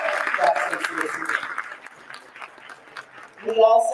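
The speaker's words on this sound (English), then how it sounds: "Can we all give them a round of applause?" A round of applause from the audience at a councilwoman's inauguration ceremony, a dense wash of clapping that swells early, thins toward the middle and gives way to a voice speaking at the end.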